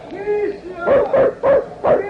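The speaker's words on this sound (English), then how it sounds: "Big St. Bernard." A big St. Bernard barks in an old-time radio drama: after a brief whine, four deep, evenly spaced woofs ring out close and loud, with a faint voice nearby.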